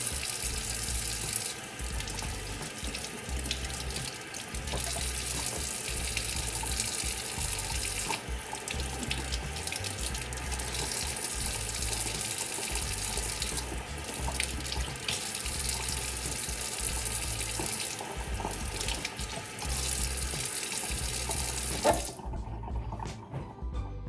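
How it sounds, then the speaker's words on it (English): Tap water runs steadily into a kitchen sink as pork chops are rinsed under it, a continuous close splashing stream that stops abruptly near the end, with no talking. "So like I said, we're going to wash these off first."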